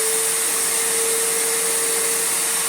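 A Panasonic MC-E465 bagged upright vacuum cleaner runs its motor at full speed with a leaky hose, a loud continuous whine and rushing airflow, close and unbroken, with no talking.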